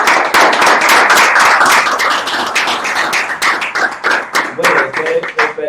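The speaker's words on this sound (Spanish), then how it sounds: "Un aplauso a los compañeros." Students in a classroom clap loudly for classmates after a software development presentation, a dense burst of applause that thins toward the end.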